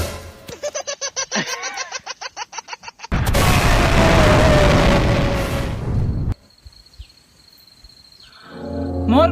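A bomb explosion sound effect bursts in mid-clip as a loud, broad roar lasting about three seconds, preceded by rapid rhythmic laughing and followed by a quieter tone and voices.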